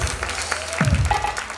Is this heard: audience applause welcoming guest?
yes